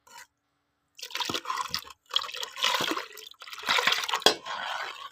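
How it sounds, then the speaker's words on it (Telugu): Tamarind juice poured into a pot of hotel-style sambar, giving several close bursts of splashing, trickling liquid separated by short pauses, with no talk. "ఇప్పుడు చింతపండు పులుసు పోసుకోండి."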